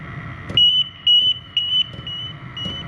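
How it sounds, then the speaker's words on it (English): A portable gas detector alarm signals low oxygen with a series of sharp, high electronic beeps in evenly spaced bursts, loud and close over a faint background hum. "so the alarm should be going off here pretty quick"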